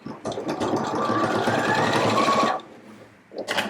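Sewing machine stitching a jacket seam, a loud continuous mechanical whirring run of about two and a half seconds that stops abruptly, followed by brief handling clatter.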